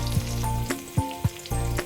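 Garlic and onion hit hot oil in a pan with dried red chillies, giving a steady close sizzle with a few sharp spitting pops and crackles as they fry.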